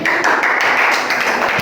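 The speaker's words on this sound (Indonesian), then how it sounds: "Tepuk tangan dulu untuk pemateri kita" An audience at a public speaking training session applauds the speaker: brisk, close clapping from a small crowd, loud and continuous for a short burst, with no voices.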